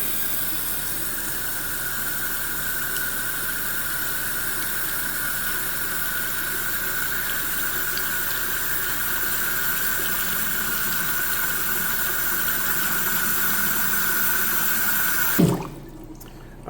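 Water rushes from a metering faucet in a steady, even stream for about fifteen seconds, then cuts off abruptly with a short clunk as the metering stem shuts, leaving a quiet room.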